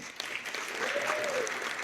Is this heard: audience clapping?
yes